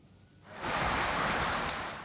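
Unseasonal rain breaks into a broad, hissing wash after a quiet half second, swelling quickly and staying loud and steady to the end with no voices.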